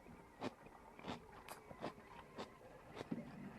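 Crisp bites and chewing of crunchy cabbage side dish flavored with onion, garlic and salt at a Mongolian yurt camp barbecue, several separate crunches spaced irregularly, close and fairly quiet, no talk.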